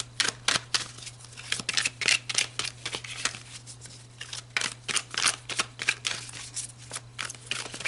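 Tarot cards being shuffled in a steady run of crisp, riffling bursts, close and fairly loud, with a low steady hum underneath and no talking.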